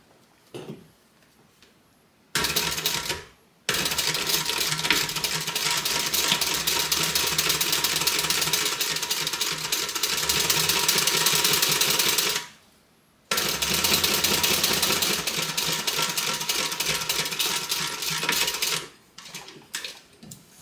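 A sewing machine stitches a side seam with a quarter-inch allowance, running loud and close in two long steady bursts with a short pause between, with no talk.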